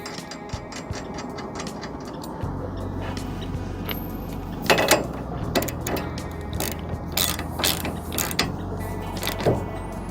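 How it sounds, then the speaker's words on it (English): A ratchet clicks repeatedly while tightening a castle nut and grade 8 washer onto a front suspension ball joint of a 2021 Kandi Batman, in bursts of close, sharp ratcheting over a low steady hum. "put a flat washer that's grade 8, put it right there, install our castle nut"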